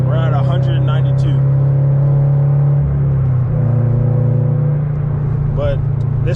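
A Subaru BRZ / FR-S sports car cruises at steady speed, a constant low engine drone with road rumble throughout, while someone talks over it.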